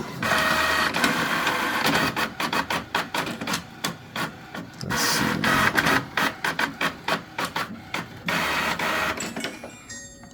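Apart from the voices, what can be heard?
printer printing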